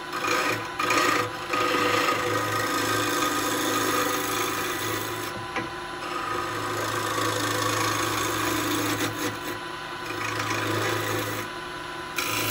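Lathe spins a wet maple bowl while a carbide tool cuts it, a continuous rough scraping and rasping over a low motor hum, with the cutting noise rising and falling in passes, close and without talk.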